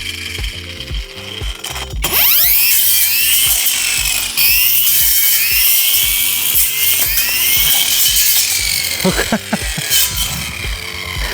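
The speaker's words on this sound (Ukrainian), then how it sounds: "Давай спробуємо дерево зараз обрізати." A Procraft cordless trimmer fitted as a pole saw cuts into a tree limb, a loud motor whine rising as the chain bites, with grinding and rattling of wood under load over several seconds.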